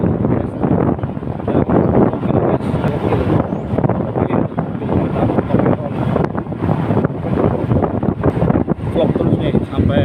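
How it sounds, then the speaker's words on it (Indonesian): Riding a 2008 Yamaha Jupiter MX 135 after an engine overhaul brings a constant, loud roar of wind buffeting the microphone that never lets up, with a voice talking over it. "Test drive motor Jupiter MX 135 tahun 2008 ya guys."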